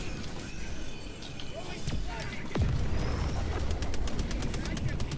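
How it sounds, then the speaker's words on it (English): Gunfire in the co-op shooter Helldivers 2 while fighting robots: scattered shots early, then a rapid burst of automatic fire in the final seconds, with players talking throughout. "Sir, can you stop shooting me"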